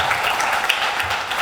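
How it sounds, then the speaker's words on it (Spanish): Conference audience at an addictions congress applauds to welcome a speaker, a dense steady clatter of many hands clapping throughout, fairly close, with no voices over it. "La recibimos con un fuerte aplauso."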